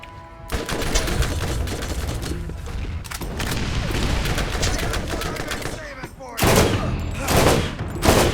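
Rapid bursts of Stomper rifle fire from Borderlands, loud and dense, with repeated cracks and booms layered over game action throughout.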